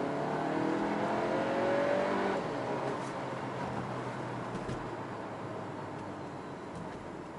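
A 2019 Seat Tarraco with a 190-horsepower engine, weighing about 1600 kilograms, accelerates at full throttle. A steady loud engine roar builds and holds for a couple of seconds, then eases into a continuous road and drive drone.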